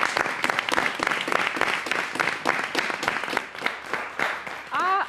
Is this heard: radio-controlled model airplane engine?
no